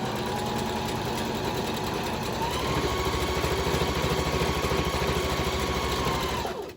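A sewing machine runs continuously, stitching a hobo bag with a fast, even mechanical whirr and rattle that stays loud and close until it stops abruptly at the end.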